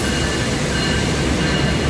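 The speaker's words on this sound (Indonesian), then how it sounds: "Ini masuk di jalur 4 kereta api." A passenger train rolls into track 4 at a railway station in Indonesia, a constant loud roar of wheels and carriages filling the whole clip with no pauses.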